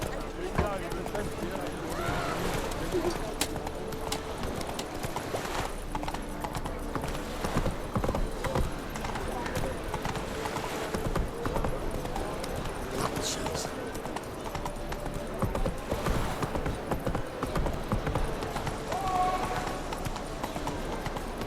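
Roach the horse gallops in The Witcher 3, a steady clip-clop of hooves running throughout under game sounds, with a voice speaking over it.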